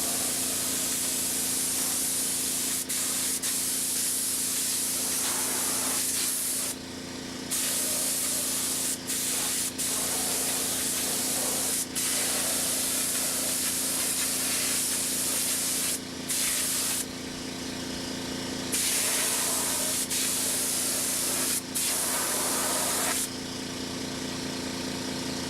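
Spray gun hissing steadily as it coats parts in silver paint, in long bursts broken by brief pauses, with a low engine or compressor hum running underneath the whole time.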